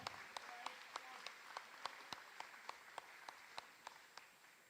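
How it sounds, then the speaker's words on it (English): Audience applause at the Super Ball 2022 freestyle competition, heard as faint, sparse, evenly spaced claps from a distant crowd rather than a dense ovation. "let's give them a big round of applause"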